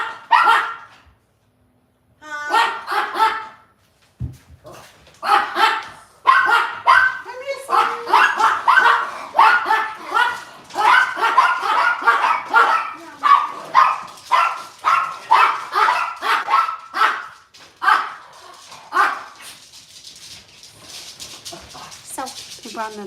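Several dogs bark in rapid, uneven bursts indoors, loud and close, with yips and overlapping barks continuing for a long stretch and fading toward the end.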